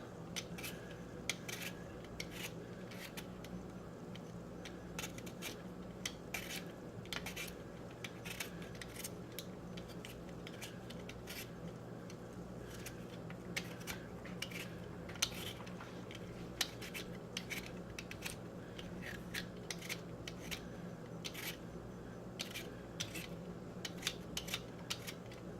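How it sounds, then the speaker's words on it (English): A potato is peeled by hand in a quiet kitchen, making a faint run of short, crisp scraping clicks at an uneven pace over a low steady background hum. "So just gonna peel the potato"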